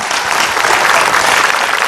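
A live audience claps loudly and continuously, a thick, even wash of many hands applauding close by with no break.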